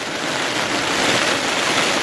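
Steady, loud rain pours down in the Gir forest, a dense continuous hiss of drops with wind blowing through, no voices.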